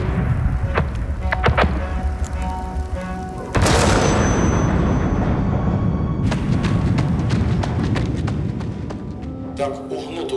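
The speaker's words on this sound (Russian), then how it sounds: "Мы слышим взрывы и свист снаряда, которые пролетают прямо у нас над головой." Heavy booms from explosions in an active shelling zone land amid a noisy war-torn setting, a sharp loud blast at mid-point followed by sustained rumbling roar and scattered cracks, with voices talking underneath.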